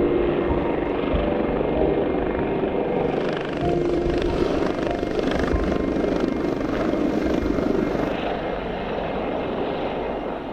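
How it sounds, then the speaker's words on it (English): A helicopter hovers overhead during a winch rescue in open landscape, its rotor and engine making a loud, steady, broadband drone that holds throughout without pause or speech. "I can't talk about photography when there's someone being winched down from a helicopter"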